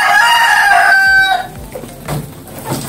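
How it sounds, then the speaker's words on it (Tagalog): A Rhode Island rooster crows loud and close, one long harmonic call that fades out in about a second and a half, followed by a few softer rustles and clucks. "Si Red na lalaki natin na rooster na Rhode Island."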